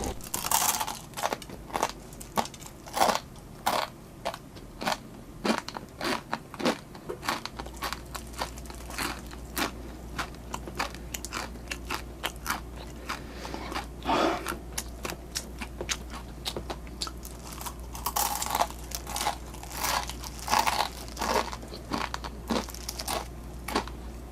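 Dry, crushed instant ramen from a small yukgaejang cup noodle is bitten and chewed close up. Loud, sharp crunches repeat irregularly for a long stretch, with crinkling packaging between bites.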